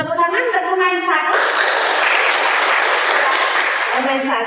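Audience applause for a player at a school simulation event, a dense wash of clapping that swells in after a spoken voice and fills most of the clip before fading under speech again.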